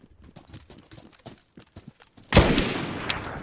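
Desert Eagle pistol fired in a multiplayer survival video game, heard as a sudden loud blast that cuts through quieter game sounds and footsteps and leaves a sustained roar of noise behind it.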